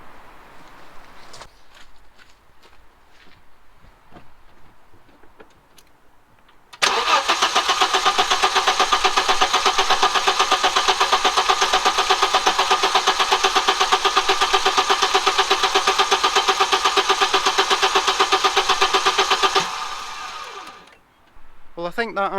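Audi Coupe B3 engine with Bosch K-Jetronic injection cranking steadily on the starter for about thirteen seconds, a loud continuous rhythmic churn that stops abruptly, preceded by quiet workshop clatter and light talk.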